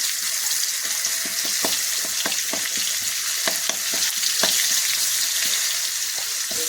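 Green chilies fry in well-heated oil for a village-style vegetable dish, a dense, even hiss with frequent sharp crackles and spatters, loud and close with no voices.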